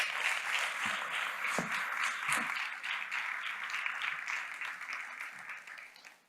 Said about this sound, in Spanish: Les pido por favor un aplauso para él.